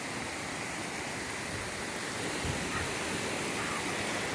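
Continuous rushing of flowing river water, a steady full hiss with no pauses.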